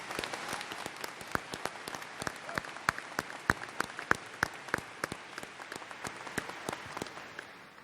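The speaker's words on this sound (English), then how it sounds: "Let's give Dr. Chua one more round of applause for really an outstanding speech." Applause at a university spring commencement ceremony after a speech: a wash of crowd clapping with a few distinct close claps standing out, the sound gradually thinning and fading toward the end.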